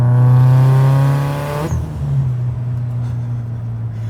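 A big-turbo Subaru Impreza STI running on E85 pulls hard with a loud, steady engine drone, then the tone drops abruptly as the throttle eases and the engine keeps humming.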